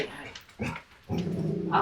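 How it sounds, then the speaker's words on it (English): Pet dogs in a home bark and growl in two rough, excited bursts separated by a short pause, heard close and fairly loud indoors. "my dogs are just going wild"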